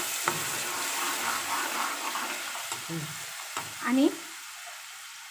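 Blended onion paste for Mumbai pav bhaji hits a hot pan with a soft hiss and wet sputtering, a louder splattering burst near the end, while a voice speaks briefly.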